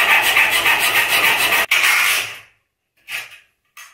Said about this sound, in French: avec une scie à métaux, vous venez tout simplement découper